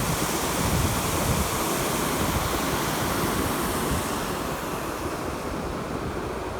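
Steady breeze blowing by a lake at a spillway, a loud, continuous broadband rush with gusty low rumble, constant throughout with no voice over it.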